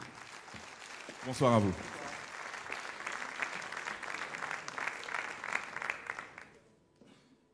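An audience at a Guadeloupe sports awards ceremony claps steadily throughout, a sustained round of applause that swells, then dies away near the end; a voice briefly speaks over it early on.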